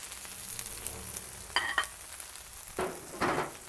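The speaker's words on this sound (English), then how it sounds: "we're gonna throw some grilled onions on. So on this side, I left it empty for a reason. A little olive oil." Onions sizzle in olive oil on a Blackstone griddle outdoors, a steady crackle throughout, with a few sharper bursts of hiss and spatter as they hit the hot surface.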